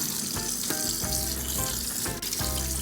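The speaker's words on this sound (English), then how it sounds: "I am washing the chicken wings before I cut them. It's under cold water," Cold tap water runs steadily over raw chicken wings in a kitchen sink, a continuous loud rush broken by repeated soft thumps and splashes as the meat is handled.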